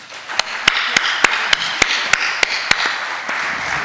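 Round-table audience claps along in a steady rhythm, about ten sharp, evenly spaced hand claps standing out over a softer bed of scattered applause.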